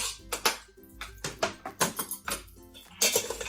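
Spoon scrapes and clinks against a pot while onions and garlic are stirred, giving a string of irregular metallic taps and knocks, close and clear, with no talking.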